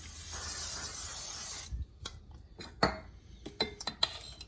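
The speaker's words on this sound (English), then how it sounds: "I have heated the pan and now I'm going to spray it lightly." Cooking spray hisses steadily onto a heated pan for under two seconds, loud and alone, before giving way to quiet scattered clinks and taps of pan and utensils for a beetroot oats savory pancake.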